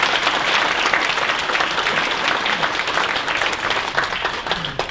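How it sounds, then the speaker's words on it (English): Enthusiastic audience applause at a college alumni awards and hall of fame ceremony, loud and close, a thick continuous clatter of many hands with scattered crisp claps, sustained without pause. "I want applause on that one."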